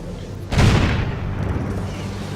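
Gun cannon towers fire in the Defense Grid video game, and one heavy, booming blast suddenly rises out of a constant low rumble, then keeps rolling as the roar slowly fades.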